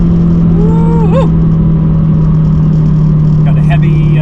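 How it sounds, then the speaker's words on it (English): A 500HP Subaru STI accelerates with a loud, steady engine drone inside the car and a brief rising turbo whistle and flutter, with a voice speaking over it. "Oh yeah, she's got that turbo flutter."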